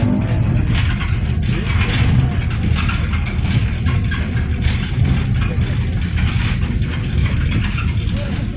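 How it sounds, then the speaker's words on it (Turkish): A car engine labors up a rough, badly damaged road, a loud, steady low rumble running without a break from start to finish. "Bu yolda araba zor çıkıyor."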